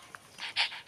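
A female dog pants in short, breathy bursts, several quick huffs close by in a quiet room at night, with no talk over it.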